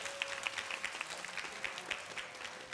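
A church youth group audience claps in a steady patter of applause, moderately distant and fairly soft, sustained throughout with a faint tone in the background.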